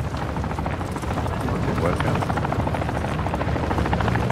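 Loud, steady thudding of video game helicopter rotor blades close by, with a voice speaking faintly underneath.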